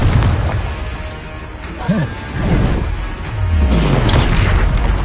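Explosive Confringo spell blasts in Hogwarts Legacy combat, heavy booming bursts repeating through a dense, loud fight mix with a voice shouting over it.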